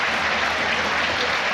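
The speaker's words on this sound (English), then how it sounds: "that's rapturous applause for Carlisle United" Carlisle United fans at Brunton Park burst into rapturous half-time applause at a football match against Wigan Athletic, a dense, loud, continuous wash of clapping from a large crowd.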